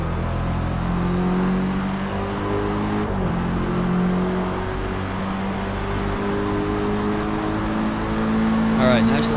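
Race car in the Forza Motorsport video game accelerating down a straightaway, a loud steady engine drone rising in pitch through the gears, with a person talking over it.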